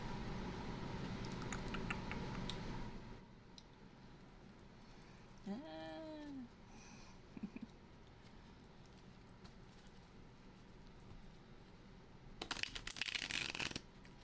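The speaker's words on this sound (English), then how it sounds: "let me cut the volume so I can shuffle" Tarot cards are shuffled quietly up close in two bursts, one at the start and one near the end, with soft room sounds between.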